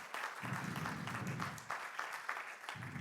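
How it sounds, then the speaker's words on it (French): Audience applause at an innovation trophy award ceremony, a continuous moderate clapping with rhythmic pulses, somewhat distant and quiet, with a low rumble underneath in parts. "applaudissements encore"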